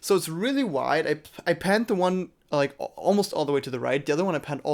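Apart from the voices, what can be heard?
No everyday noise stands out behind the speech.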